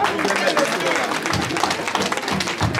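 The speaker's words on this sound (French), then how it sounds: "Ça s'acclame s'il vous plaît." Crowd applause and cheering at a political party investiture ceremony in Nanterre, a dense, steady wash of clapping and voices filling the room throughout, with some low thumps and speech mixed in.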